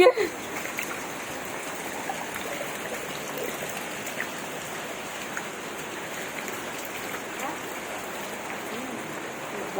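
Water rushes and splashes continuously with a steady hiss, a strong flow of floodwater rising indoors into rooms, with faint voices in the background.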